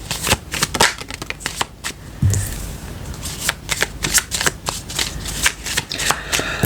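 Tarot cards shuffled close up in a rapid run of crisp riffling slaps and flutters, continuing steadily alone with no voice over them.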